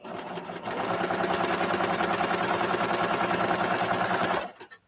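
A sewing machine stitching quilt pieces along a marked line, a loud, fast, steady mechanical whirring that runs for over four seconds, then stops abruptly with a short trailing rattle.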